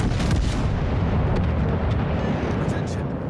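Naval artillery fire in the World of Warships Legends game, a dense, continuous rumble of heavy booms and blasts, loud and close, with a voice speaking over it.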